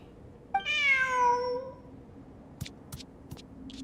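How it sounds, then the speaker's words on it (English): A cat meows once in a video game, a clear, drawn-out mew of about a second, followed by a few faint clicks over quiet background ambience. "Who's a good kitty?"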